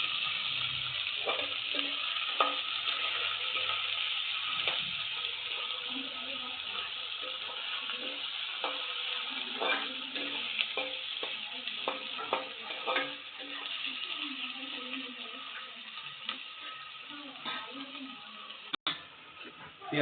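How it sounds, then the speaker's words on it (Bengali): Onions fry in a pan and are stirred, giving a continuous close sizzle with regular scraping and ticking strokes of the spoon throughout, loud and steady on its own. "নেড়ে ছেড়ে সুন্দরভাবে পেঁয়াজগুলো লাল লাল করে ভেজে নেব।"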